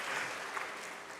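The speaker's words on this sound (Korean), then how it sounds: "그 박수 쳐준 새 가족분에게 격려의 박수." Church congregation at a Sunday afternoon service applauding to encourage a new family member, a short burst of dense, steady clapping heard from a distance, soft and even without distinct individual claps.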